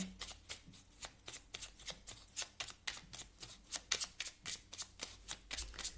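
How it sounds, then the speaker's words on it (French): A deck of oracle cards is shuffled by hand in a quiet room, a steady run of crisp riffling slaps repeating about twice per second, close and alone. "je vais vous tirer une carte du petit oracle du druide"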